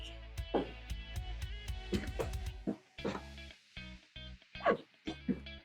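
A little dog barks in the backyard of a house in Lubbock, Texas, giving a string of short, sharp yips at uneven intervals, fairly close, over a steady low background hum with no talking.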